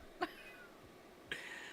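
A hungry cat waiting for food gives two brief, quiet calls, meows mixed with trilly noises, separated by about a second of near silence.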